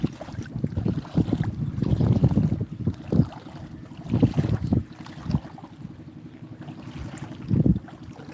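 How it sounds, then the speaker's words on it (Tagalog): Wind buffets the microphone in uneven gusts on the shore of Laguna de Bay, rumbling loudly and then easing, with a faint wash of shallow lake water in the background. "hangin dito"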